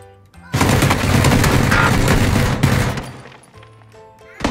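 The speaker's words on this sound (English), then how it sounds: "it's someone shooting at me" Sustained burst of gunfire in the battle-royale game PUBG, loud and dense for about two and a half seconds before tapering off, with a faint voice nearby.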